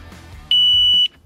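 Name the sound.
beep of Dafy disc brake lock when armed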